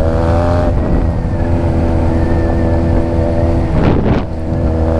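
A Honda Rebel 250 motorcycle rides on gravel, its engine a steady close drone mixed with wind rush, with a rougher, louder burst near the end.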